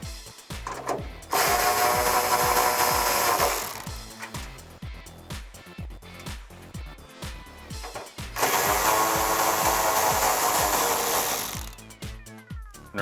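A power tool fitted with a 10mm socket spins out bolts on the trunk lid of a 2005-2009 Mustang, two loud sustained whirring bursts separated by close clicks and handling noises.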